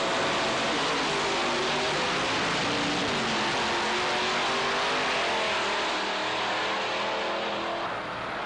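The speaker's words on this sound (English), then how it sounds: "Supercharged Firebird." A supercharged Pontiac Firebird drag car roars loudly and continuously at full throttle on a drag strip, engine note steady and harsh with a slight rise, close and with no voices.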